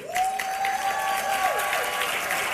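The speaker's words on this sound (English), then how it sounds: "Give her a big round of applause." A crowd at a women's health expo broadcast applauds a radio station's new general manager, steady clapping under a held singing or cheering voice and an electronic tone.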